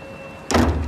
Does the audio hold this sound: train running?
no